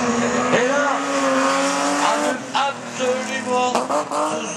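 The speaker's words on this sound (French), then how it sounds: "des passages de cette BMW avec ces jeunes pilotes" A BMW race car driven by young racers on a circuit, loud engine roaring and shifting pitch as it passes close, with tire squeal and a further rev surge near the end.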